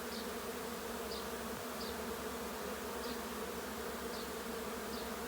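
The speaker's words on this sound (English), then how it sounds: "There are some bees here waiting. So basically, they're waiting for their turn to go in the hive." Honey bees from a swarm hover near a hive entrance, making a soft, continuous, even buzz with no voices.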